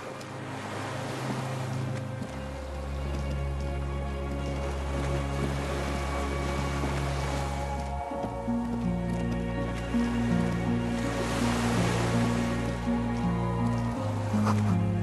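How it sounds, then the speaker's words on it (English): Waves lap gently against a swaying skiff moored by a dock in Disco Elysium, a steady wash of water and wind under sustained low music tones. "The skiff is swaying on the waves by the dock."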